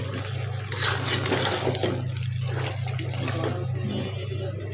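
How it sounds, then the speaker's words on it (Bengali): Hot water is poured from a pot onto beef that has been braised in oil, a continuous gushing, splashing stream near at hand that holds steady for several seconds. "পানি দিয়ে দিব।"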